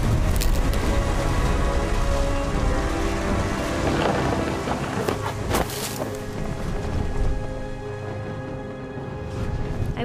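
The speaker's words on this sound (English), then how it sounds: "The thunder sounded much too close and full of angry power" In the game What Remains of Edith Finch, heavy thunder rumbles close and powerful over steady pouring rain by the sea, with sharp cracks standing out from the continuous downpour.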